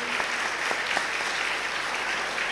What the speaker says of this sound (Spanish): Un aplauso para el Padre que nos ha dado la oportunidad de estar aquí.